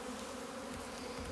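Honey bees buzz continuously during the installation of a three-pound package, a dense, close droning hum with no pauses and no voices.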